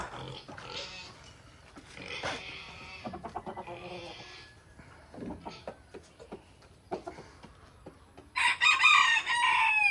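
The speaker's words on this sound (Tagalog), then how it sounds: "Pakainin natin itong mga manok." Chickens cluck and fuss nearby in scattered bursts at feeding time in the Philippine countryside, then a rooster crows loudly near the end.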